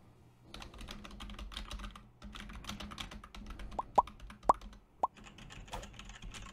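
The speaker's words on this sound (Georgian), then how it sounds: "ეხლა მოდით გავსინჯოთ, როგორ მუშაობს კლავიატურის კლიკები" A computer keyboard typed on at a desk and picked up by a nearby microphone gives steady rapid clicking with a few sharper, louder clacks standing out, no voices.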